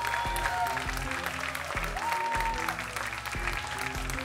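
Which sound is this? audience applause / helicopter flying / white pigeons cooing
audience applause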